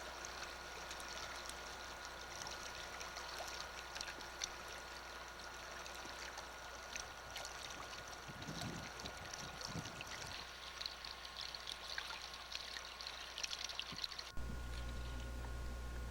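River water streams and trickles steadily along the Baillie River as a canoe glides downstream, a soft continuous flow with faint splashes, no voices.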